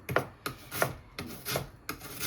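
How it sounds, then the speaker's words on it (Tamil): Onions are cut by hand in a home kitchen, with a run of close, quiet rasping knife strokes coming in short regular bursts. "இப்போ வந்து நான் வெங்காயம் வெட்டுறேன்"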